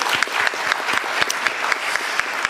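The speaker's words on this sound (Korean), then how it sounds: "제가 박수 한번 드리고 싶습니다" An audience applauds at a Korean public address honoring a health minister, officials, lawmakers and medical workers, with steady dense clapping throughout and no talk.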